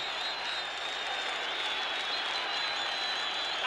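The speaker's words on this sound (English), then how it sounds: "The crowd go wild." A stadium crowd roars and applauds after South Africa score a try against the British Lions in a 1974 rugby Test, a dense continuous wall of cheering from a distance.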